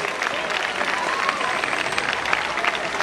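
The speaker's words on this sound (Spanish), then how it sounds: "¡El aplauso para las bellezas de Federación!" Crowd applause in an outdoor amphitheater at a carnival presentation, cheering dancers: steady, dense clapping from a large audience filling the whole stretch at an even, fairly loud level.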